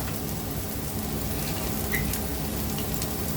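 Onion fries with salt in two tablespoons of oil, making a constant dense sizzling hiss that stays even and close throughout.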